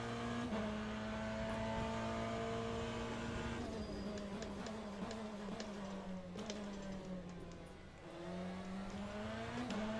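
Race car engines droning steadily in Le Mans Ultimate, a Toyota prototype running at speed, a sustained pitch that rises and dips with gear changes, fairly loud and continuous, with faint talk underneath.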